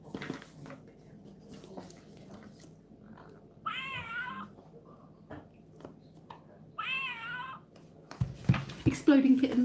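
A cat meow sound plays from an Exploding Kittens game box, two distinct wavering electronic meows a couple of seconds apart, with faint room noise between and rustling handling noise at the end.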